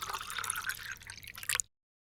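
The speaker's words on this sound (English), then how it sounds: "Now, pour cold water into the glass." Cold water is poured into an empty drinking glass, making a continuous bright splashing and filling sound for about one and a half seconds before stopping abruptly, close and fairly loud with no voices.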